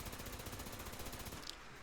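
Gatling laser fire in Fallout 76, a rapid, even stream of buzzing shots that stops abruptly near the end, heard quietly.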